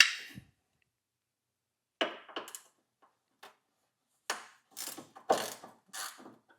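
A hand ratchet loosens rusty fender bolts on a BMW E30, with short bursts of quick clicking separated by pauses, close and fairly crisp.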